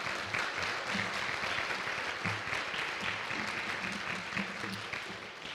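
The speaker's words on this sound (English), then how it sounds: "How about a collective round of applause for all of our presenters this evening?" Sustained audience applause for the presenters at an evening Three Minute Thesis competition, a steady dense wash of many hands clapping at moderate distance, with a few faint voices underneath.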